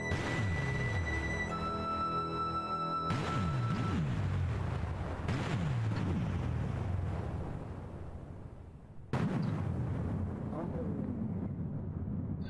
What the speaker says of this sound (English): These are the explosions in the actual music.